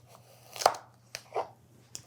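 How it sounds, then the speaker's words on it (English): A big knife chops a carrot for a shepherd's pie, giving a few sharp, separate cuts against a board. The cuts are close and moderately loud over a low steady hum. "Carrot. I'm gonna use a bigger knife."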